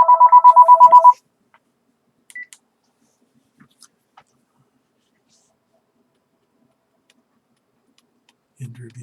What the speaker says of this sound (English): Sorry about the phone ringing all the time.